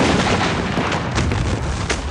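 A massive simultaneous volley of 11 cannon and about 1,700 muskets at Gettysburg, heard as a dense, sustained roar of crackling gunfire and deep booms filling the whole stretch, loud and continuous with no pauses.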